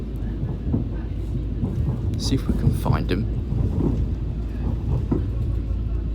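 A low, steady rumble of an East Midlands Railway train waiting at a railway junction near Dore and Sheffield fills the background, with someone speaking briefly over it and some faint higher rattles.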